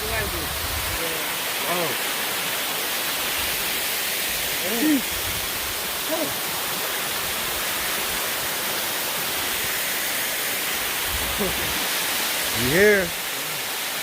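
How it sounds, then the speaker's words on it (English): Adom Waterfalls in Ghana, a constant loud broadband roar of falling water filling the scene while people speak and exclaim intermittently over it. "The waterfall."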